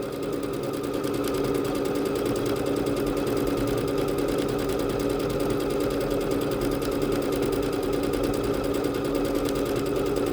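A Bernette B-77 sewing machine runs a decorative stitch at a fairly quick pace, giving a continuous, even mechanical whirring and rapid needle chatter, close and loud throughout, with no speech.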